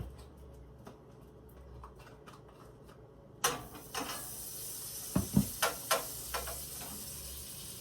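Butter sizzles in a frying pan while sandwiches are cooked: a quiet stretch, then a louder, steady frying hiss with scattered sharp pops and crackles near the pan.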